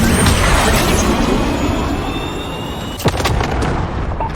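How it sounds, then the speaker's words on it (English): A cruise missile strike in the video game Modern Warfare brings a loud, continuous roar of explosion noise, with a sharp extra blast near the end. "Cruise missile away."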